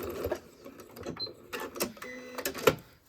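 A sewing machine back stitching a satin bow tie, heard in short irregular bursts of stitching with brief pauses and small clicks between them, close and fairly quiet, with no talking.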